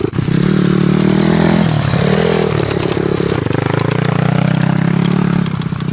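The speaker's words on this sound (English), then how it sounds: "Why is it revving so low but going so fucking fast?" Close, loud dirt bike with a clutch, engine droning at low revs while moving fast, its pitch dipping briefly then steadying, with wind rush over the motor and no talking.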